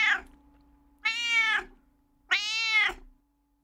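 A cat meows in the video game Little Witch in the Woods: a brief opening mew, then two drawn-out, clear meows spaced about a second apart over a faint steady hum.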